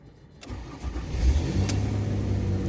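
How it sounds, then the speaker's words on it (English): A Ford Escape engine cranks briefly, then catches and settles into a steady, close idle with a continuous low hum. "Okay, now we are going to crank the car up."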